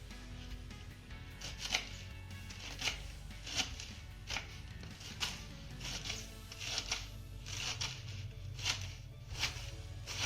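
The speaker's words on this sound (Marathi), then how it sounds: "हे दोन्ही भाग आपल्याला जुळवून बारीक असं चिरून घ्यायचं आहे" A knife chops rolled colocasia leaves finely on a board, a steady series of crisp, close cuts in quick irregular bursts, with no talking.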